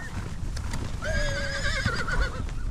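A horse lets out a loud, wavering whinny during a spring horse drive of about 80 horses across eastern Arizona ranch country, with hooves clip-clopping and a low rumble of the herd underneath.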